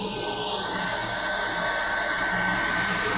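A 25 kW oil-fired boiler burner running as its oil feed resumes, a loud steady roaring whoosh held close and constant throughout, with no talk.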